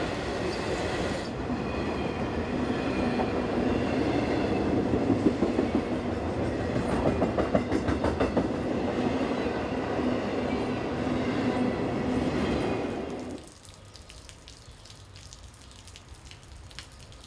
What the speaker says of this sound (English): The headlights of Amtrak's approaching Train 53, the auto train, light up the rain in the distance